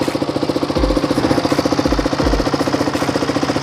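A used KTM 200cc motorcycle engine runs steadily close up, a loud, fast, even mechanical chatter with a thumping pulse, with no talking over it.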